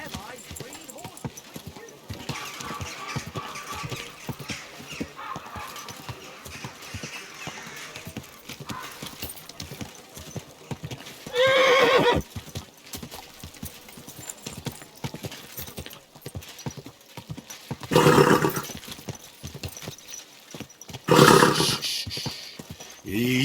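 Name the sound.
horse hooves clip-clop in video game Kingdom Come Deliverance 2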